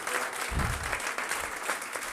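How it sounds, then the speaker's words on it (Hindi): An audience claps steadily for a couple of seconds at a Bihar Board 12th result celebration, a dense, continuous burst of applause from a gathered group, with no voices over it. "मैं चाहूँगा कि हमारे बड़े भाई के लिए जोरदार तालियों से एक बार अभिनंदन किया जाए।"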